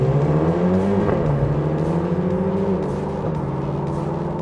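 A Honda Civic Type R, a Mercedes-AMG A35 and a Mini Clubman JCW drag race down the KLIA airport runway, loud engines droning and rising in pitch as they accelerate past. The roar holds steady, with a slight fade toward the end.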